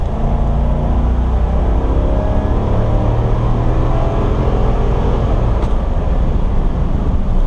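A 2022 Chevy Silverado 2500 HD Custom with the 6.6L gas engine revs and pulls hard, a loud, steady low rumble with road noise that holds for several seconds.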